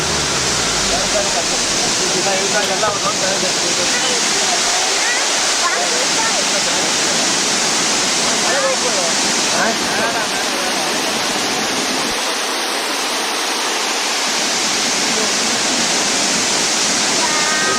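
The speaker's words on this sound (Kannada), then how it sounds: "ಕಡಾಂಬಿ ಜಲಪಾತ ಇದೆ." The Kadambi waterfall roars as a loud, constant broadband rush close by, unbroken throughout, with faint voices occasionally under the torrent.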